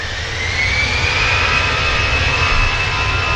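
An EasyJet jet airliner takes off at Manchester Airport, its engines a steady, loud roar with a rising whine that holds throughout.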